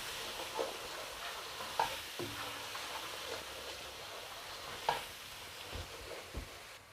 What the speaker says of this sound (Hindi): अब जितने हमारे पास ये स्पाइसेस थे ये ऐड कर देने हैं और इसकी भी भुनाई करनी है तकरीबन 2 से 3 मिनट।